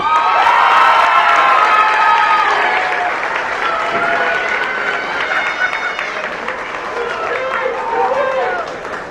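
Graduation ceremony crowd at a high school commencement bursts into loud, sustained applause with cheering and shouts, steady for several seconds before easing slightly toward the end.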